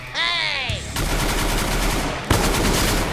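Rapid gunfire from a video game as a player shoots at insects, a dense continuous burst of automatic shots lasting throughout, briefly interrupted then resuming loudly.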